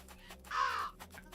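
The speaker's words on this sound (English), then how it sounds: "look at all those frickin' birds I made" A single harsh crow caw rings out in a video game, one short loud call rising over a quiet low background hum.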